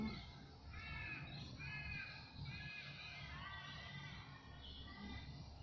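Birds calling in Sydney, a series of repeated harmonic calls in short bursts over a constant outdoor background hum, moderately distant and clear, with no speech.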